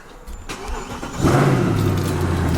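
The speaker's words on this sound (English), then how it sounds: "So I'm gonna start it up here." A Mercedes C63, in for a repair, cranks and fires up, its engine catching after a brief starter whir and settling into a loud, deep, steady idle close by.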